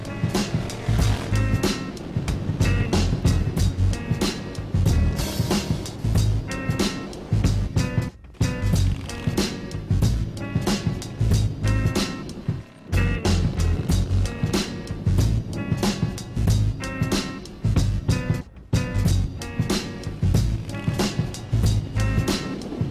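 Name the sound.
Jack Pine motorcycle by Hammarhead Industries on a test ride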